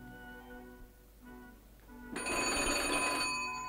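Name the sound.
telephone ringing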